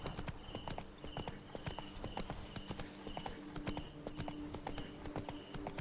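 Hooves clip-clop in a quick, steady rhythm as the horse Roach trots in The Witcher 3: Wild Hunt, with faint game ambience and a short neigh-like tone.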